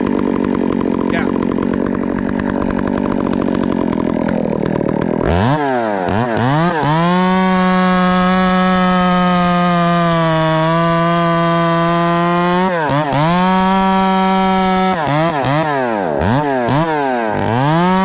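Husqvarna 372XPW chainsaw fitted with a modified lightweight Stihl bar, bucking balsam: the engine is loud and close, revving up with a sharp pull, holding a steady high whine through the cut, then dropping and revving again.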